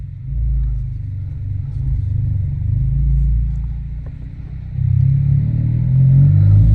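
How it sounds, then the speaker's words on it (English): A Honda Civic Type R FL5 engine drones low and steady through a pull, with a louder, rising surge toward the end; no one speaks. "We're gonna do some pulls on this car."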